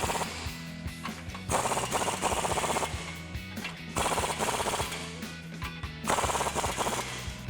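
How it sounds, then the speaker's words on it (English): Bolts on a 2019-2024 Silverado 1500 rear leveling kit tightened with a 22mm socket, loud rapid rattling impact-wrench bursts in three long runs separated by brief pauses. "now we can take a 22mm socket and tighten these down"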